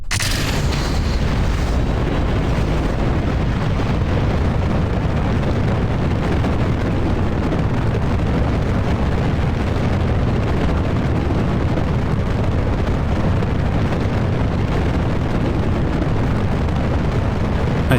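A rocket roars through launch in Kerbal Space Program, a continuous loud, dense engine rumble that holds steady and unbroken from start to finish with no voices.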